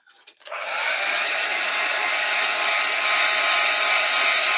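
A heat gun on a light setting is used to dry a freshly painted vignette. It switches on after a brief rustle and holds a loud, steady, close blowing whoosh to the end.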